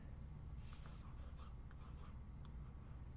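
A marker squeaks and rubs across a board as a chemical formula is written in a chemistry lesson, giving short, faint strokes over a steady low hum.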